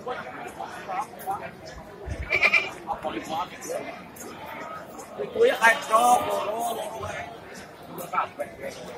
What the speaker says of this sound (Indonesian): bandot bandot kambing Jawa atau Jawa Randu ini saya